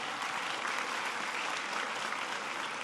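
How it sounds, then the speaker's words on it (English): Students in an audience break into steady, dense applause at an education event with President Obama, a continuous wash of clapping heard from a distance with no voices over it. "That's worth applauding, that you're enjoying learning so much."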